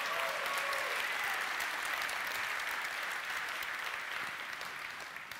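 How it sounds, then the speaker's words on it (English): An audience at the Nvidia Gamescom 2018 RTX graphics card reveal claps in a dense, sustained round of applause that fills the hall and tapers slightly toward the end. "you got to clap at the old stuff too"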